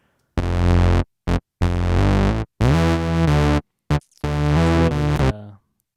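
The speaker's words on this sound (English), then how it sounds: "The main thing, though, is this Moog I have going. This is my Moog grandmother." Bright, buzzy notes from a Moog Grandmother analog synthesizer played in short bursts and longer held tones, loud and clean with gaps of silence between phrases.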